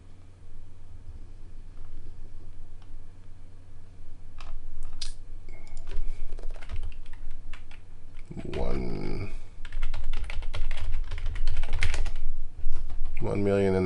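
Someone types on a computer keyboard in quick bursts of clicking keystrokes, close and fairly loud, with a person talking in between and over parts of the typing.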